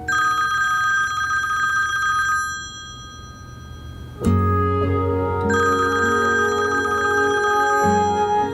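A telephone rings unanswered with a shrill electronic bell tone, loud and near, dropping off briefly before the repeated ringing pattern resumes with a deeper layered tone.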